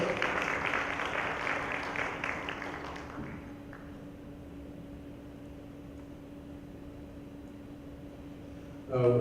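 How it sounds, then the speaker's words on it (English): Audience applause at an evening awards event, a dense burst of clapping that fades out over the first few seconds, leaving quiet room hum before a sudden loud noise at the very end. "Please give him a big round of applause"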